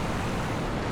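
A river runs beside a campsite in Sinks Canyon near Lander, giving a brief, steady, close broadband rush of flowing water.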